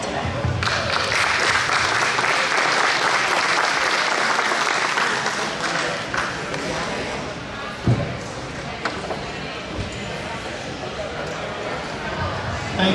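Crowd at a veteran fair in the Evansville Wartime Museum claps for a speaker, loud applause fading after several seconds into scattered claps, a few sharp knocks and murmuring voices in the room.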